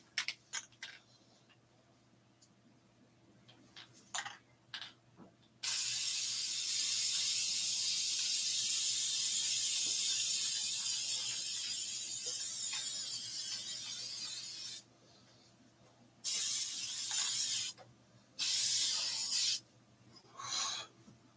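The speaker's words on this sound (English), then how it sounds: "We're going to spray this from a good angle before this dries." Spray can of Plasti Dip rubber coating sprayed in long sustained hissing bursts, one lasting about nine seconds and several shorter ones, close and fairly loud over a low background hum, with a few brief clicks in between.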